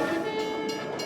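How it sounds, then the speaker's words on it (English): Rickety, rusty old mine train rumbling steadily through a cramped tunnel, a continuous loud rolling rattle with no break. "This rickety, rusty, old claustrophobic train that you ride in on"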